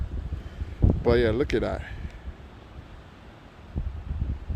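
Wind gusts rumble and buffet against the microphone outdoors, with a brief bit of speech partway through.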